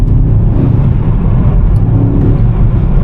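BMW M5 Touring, a heavy wagon, pulls hard under acceleration: a steady, loud low engine roar with a dense rumble that holds throughout and has no talk over it.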